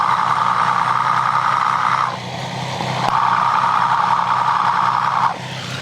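A Triumph 765 motorcycle engine runs steadily up close while its drive chain is checked for abnormal noise at the right guide rail, with a continuous mechanical whir that drops briefly and returns; nobody talks.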